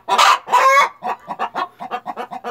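Tame hens and pullets, including a bare-necked bird, give two loud drawn-out cackles close by. A quicker series of short, rhythmic clucks follows, with no voices.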